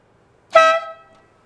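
A single loud, brassy truck-style air horn blast from horns fitted to an LS-swapped Chevrolet Chevelle, about half a second long with a fading tail, heard alone.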